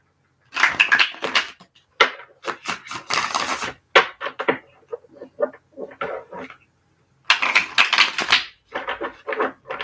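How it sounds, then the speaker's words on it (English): Tarot cards being shuffled by hand, crisp riffling and flicking bursts of stiff card stock in irregular clusters, near and clear against a quiet room. "It's the first time I'm shuffling this deck."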